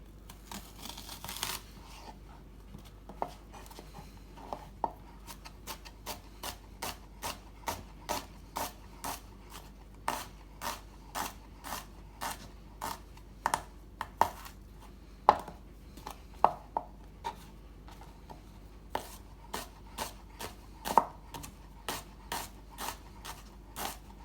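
A knife finely slicing mild onion-flavoured greens for a beef and pak choi noodle soup, a long run of crisp, evenly spaced chopping taps close by on a board, with no talking.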